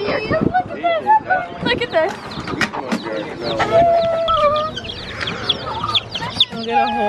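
Chickens cluck and squawk in pens at a farm store with ducks nearby, a busy chorus of short calls and longer crowing tones, close and lively, with people talking throughout.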